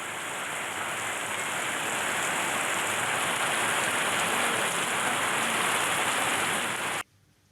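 Steady, dense downpour of heavy monsoon rain in Maharashtra, loud and continuous, cutting off abruptly near the end.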